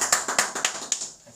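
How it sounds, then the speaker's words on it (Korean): Congregation clapping in a church after a worship service: about eight sharp claps in an uneven rhythm, moderately close, then fading out, with no talk. "우리 예배를 받으신 하나님께 영광의 박수 올리겠습니다."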